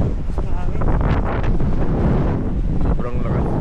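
Strong wind buffets the microphone at the seaside in Lido di Jesolo, a loud continuous roar and rumble with gusty surges throughout, with surf and a voice faintly mixed underneath.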